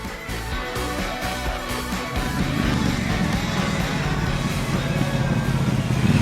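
A bobber-style motorcycle engine rumbles steadily, its low throb growing fuller and louder partway through as it revs up, running close by.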